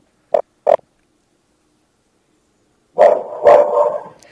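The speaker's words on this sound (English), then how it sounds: "the sad part is all the barking" A dog gives two short, sharp barks, falls silent for a few seconds, then lets out a louder burst of rough, overlapping barking near the end.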